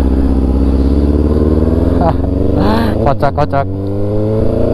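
A Kawasaki ZX636 motorcycle engine runs loud and close with a rough, steady rumble and rising revs, while several people talk over it.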